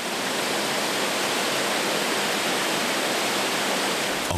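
Roar of the giant Tarpatak waterfall in the High Tatras, dropping 20 m, a steady dense rush of falling water filling the air with no breaks and no voices.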